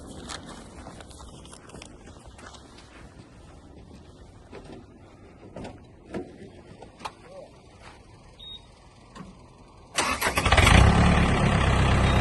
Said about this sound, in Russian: Трактор запускается легко, также работает мягко, отлично.